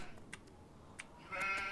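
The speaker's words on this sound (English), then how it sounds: "I must chase the sheep" Sheep bleat faintly in a Nancy Drew mystery game set around a haunted Irish castle, with a couple of short calls followed by a longer bleat at the end over low background noise.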